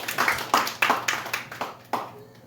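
Rhythmic hand claps from a church congregation, roughly eight sharp claps in a steady beat that trail off near the end, fairly close and without talk.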